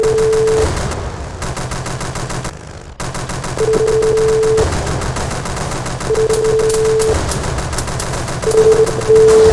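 Heavy machine gun fire in a video game, loud rapid bursts of shots separated by brief pauses, with a sustained tone sounding during several of the bursts.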